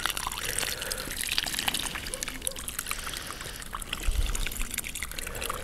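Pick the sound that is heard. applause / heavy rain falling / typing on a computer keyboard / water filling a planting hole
water filling a planting hole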